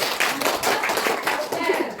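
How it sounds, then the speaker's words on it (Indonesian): A junior high school class applauds together after presentations, many hands clapping in a quick, uneven patter that holds steady throughout, with some voices underneath. "Mari tepuk tangan untuk kita semua yang sudah berhasil"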